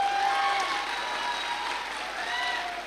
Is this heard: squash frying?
no